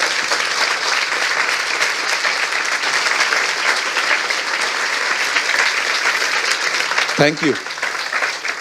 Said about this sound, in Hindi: आइए प्रभु के लिए एक अच्छी ताली बजाएंगे।